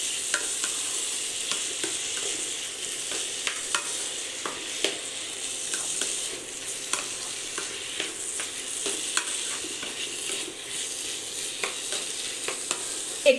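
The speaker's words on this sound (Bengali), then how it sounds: "এই সবজির সাথে এটাকেও একটু ফ্রাই করে নিচ্ছি, একটু কষিয়ে নিচ্ছি।" Vegetables fry with salt and turmeric in a pan, giving a steady close sizzle broken by repeated scrapes and knocks of a stirring utensil, with no talk.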